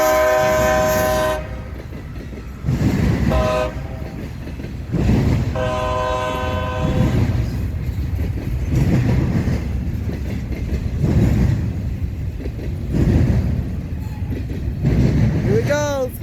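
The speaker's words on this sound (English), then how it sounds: "Ooh, there's a CSX Intermodal train!" Westbound CSX intermodal freight train 212, Selkirk NY to Chicago, passing at Deshler, Ohio. The loud horn sounds in several long blasts over a heavy, continuous rumble of rolling cars and wheel clatter close by.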